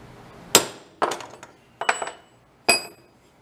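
A hammer strikes a transfer punch set into the hole of a blown-up engine part, giving four sharp metallic taps with ringing overtones, close and loud, spaced about half a second to a second apart, the middle two followed by quick lighter rebounds.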